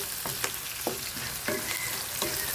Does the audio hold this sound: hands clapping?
no